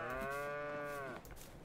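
Holstein cows in the farming game Farming Simulator 22 let out a single long, loud moo lasting about a second, followed by quieter ambient noise.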